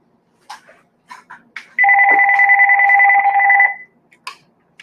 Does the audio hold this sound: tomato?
no